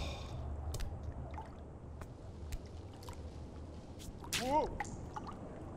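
Water drips and splashes in a climbing game, with faint scattered drops over a low background, one clearer liquid plop near the end, and a voice speaking quietly at times.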